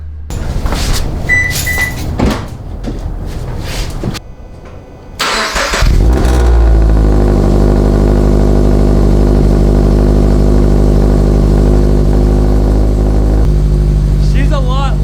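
A Subaru FR-S with an unequal-length UEL header is heard first through clunks and handling noises, then the engine cranks and fires into a loud, steady, rumbling idle that continues up close to the end.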